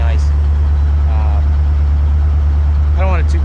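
A 1982 Corvette fitted with basic Dyno Max mufflers idles steadily with a deep, loud low rumble, while a voice talks over it at moments.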